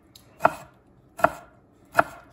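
A knife slices rolled-up leaves on a cutting board for a caprese salad, giving three crisp, evenly spaced chops that are close and clear, with quiet between them and no talking.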